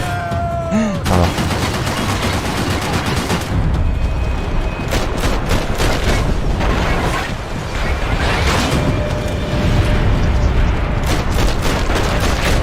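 Loud, dense gunfire in Max Payne 3, with rapid bursts and booming shots repeating almost continuously, plus a brief whining tone near the start.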